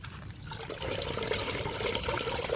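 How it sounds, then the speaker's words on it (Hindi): Water rushes steadily into a tank through a venturi fitting on a farm fertilizer setup, a continuous close, even flow with no speech. "ये वॉल में से पानी इधर आना चालू हो गया है"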